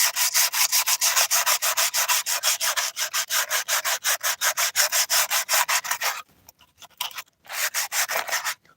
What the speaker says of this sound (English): we're just doing a little rough sanding right now